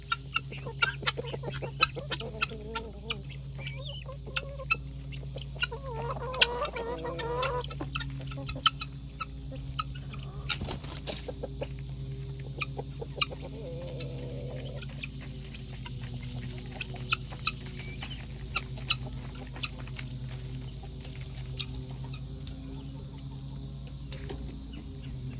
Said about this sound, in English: I should say chickens and guineas.